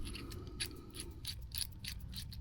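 An M12 bolt carrying a nut and two washers is threaded onto a rivnut tool during a rock slider install on a 6th gen 4Runner TRD Pro, giving a close, repeating metallic ratcheting click with no talking.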